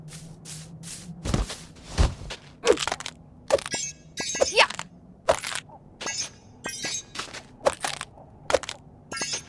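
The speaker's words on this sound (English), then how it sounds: "You really smashed those objects!" Objects being hit and smashed in a Hotel Transylvania video game: a rapid series of sharp cracking and breaking impacts with brief crunchy debris.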